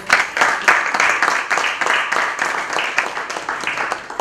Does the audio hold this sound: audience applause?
yes